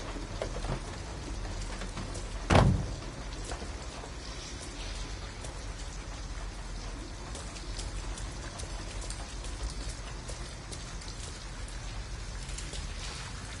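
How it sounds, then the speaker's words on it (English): Rain falls steadily in the video game Detroit: Become Human, a dense, even hiss of drops on surfaces throughout, broken by one sharp loud knock early on. "At least we'd be out of the rain."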